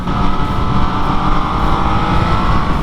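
An MV Agusta Dragster motorcycle engine at speed, a loud, steady roar heard close up during a quick-shifter upshift near 5,000 rpm, with constant wind and engine noise and no pause in power.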